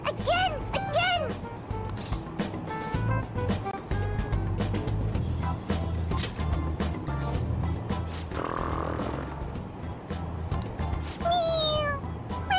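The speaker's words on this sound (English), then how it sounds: "It meows when you press on its head." A pressed toy cat meows in Persona 5 Royal, short mewing calls rising briefly at the start and again near the end over a steady low rumble, with voices chattering in between.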